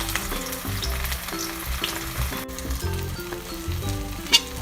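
Eggless kangkong (water spinach) fritters fry in hot oil, an even close sizzle with soft popping and bubbling, plus a sharp crackle near the end.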